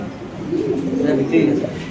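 A white Mundian pigeon gives a soft, low, rolling coo, close by and fairly loud, with a person's voice mixed in alongside it.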